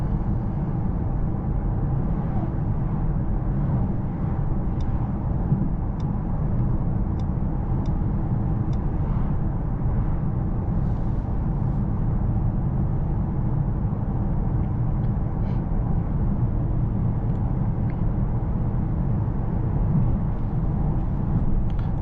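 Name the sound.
2024 Mercedes-AMG S63 V8 engine while driving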